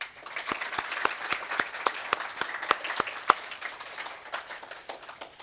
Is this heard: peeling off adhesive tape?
no